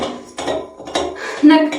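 Spoon clinking and scraping against a bowl while mixing doughnut dough, in a few short bursts, close by, with clattery metallic rings and no talking.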